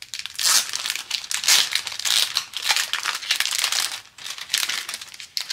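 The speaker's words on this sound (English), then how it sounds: "Going to take one out of the package." A plastic package crinkles and crackles loudly and close as a miniature yoga figure is pulled out. The rustling bursts come in uneven waves with brief pauses between them.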